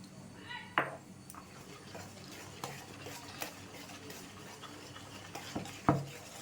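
A spoon mixes cupcake batter with milk inside a tea cup, soft stirring and scraping at a low level, with a couple of sharper clinks against the cup and faint background noise.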